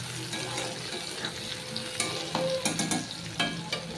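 Ginger, garlic and chili frying in mustard oil in a wok, a steady crackling sizzle with bursts of sharp spatula stirring and clatter in the second half.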